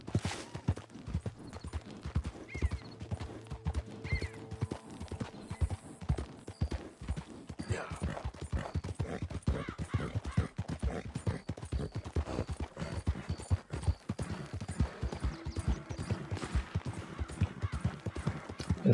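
Hooves pound in a continuous fast gallop as a horse runs in the western game Red Dead Redemption 2, close and prominent, with faint background tones and no talking.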